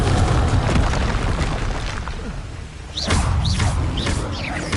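A Confringo fire spell in Hogwarts Legacy detonates with a heavy booming blast, followed by rumbling debris and sharp whooshing bursts, loud and close with no talk over it.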